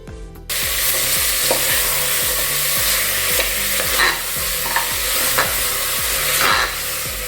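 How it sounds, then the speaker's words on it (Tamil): Mutton breastbone sautéing with tomato masala in a pan, a loud steady sizzle broken by a regular rhythm of stirring strokes, close up, with no one talking. "தக்காளி மசாலையெல்லாம் சேர்ந்து கொஞ்சம் லைட்டாக வதங்கட்டும்"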